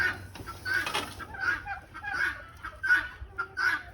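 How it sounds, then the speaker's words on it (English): Chickens on a homestead farm cluck in short repeated bursts spread across the clip, moderately close, with a low rumble of background noise and no talk. "Here we go, more chickens."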